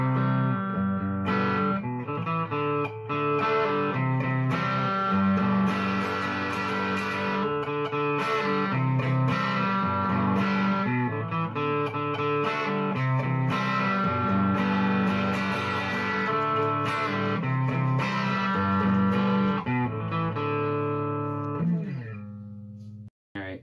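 An electric guitar runs through a Line 6 Spider V amp on one of its presets, playing continuous bright picked chords and melodic lines at steady volume before stopping abruptly at the end.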